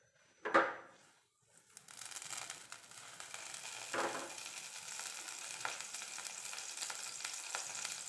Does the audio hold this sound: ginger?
yes